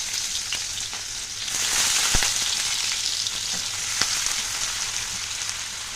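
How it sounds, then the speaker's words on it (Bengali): Beans and carrots sizzle and crackle steadily in hot oil, with occasional clinks and stirring scrapes, close and fairly loud. "বিনস গাজর অনেকটাই ভাজা হয়ে গেছে"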